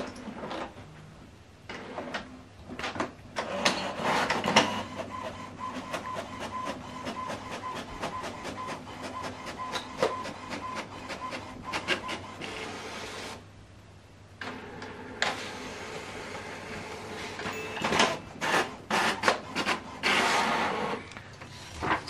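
An HP Smart Tank printer running a print job: a steady mechanical whir with rapid ticking and clacking of the paper feed, a brief pause midway, then more feeding and rattling, close and fairly loud.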